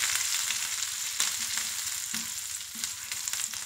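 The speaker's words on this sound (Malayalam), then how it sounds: "ഇതൊന്ന് ഫ്രൈ" Curry leaves fry in hot oil for chicken 65, a steady close crackling sizzle with small pops that continues alone throughout.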